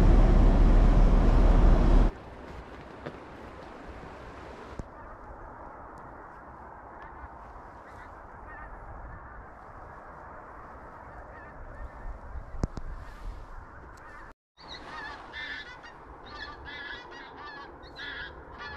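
Pink-footed geese honk in a loose chorus at a distance on a cold winter morning, fairly steady calls with an outdoor background, after a loud opening burst of noise.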